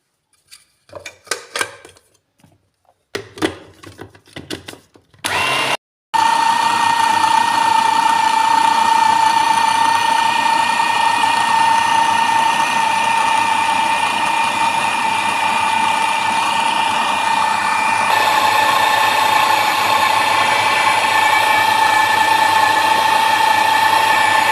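Electric grinder grinding peanuts with a pinch of salt into peanut butter: a few short start-stop bursts, then a loud, continuous whirring motor drone that holds steady to the end.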